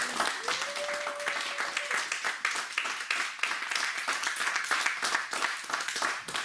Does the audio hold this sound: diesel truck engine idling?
no